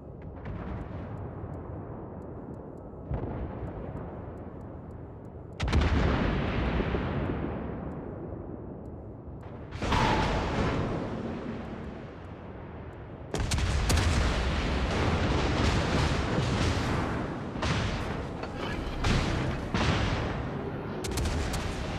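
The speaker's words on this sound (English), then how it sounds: "Concentrate fire on the enemy warship." Naval artillery in World of Warships booms repeatedly, each heavy blast followed by a long rumbling decay, the salvos spaced a few seconds apart and growing denser and louder toward the end.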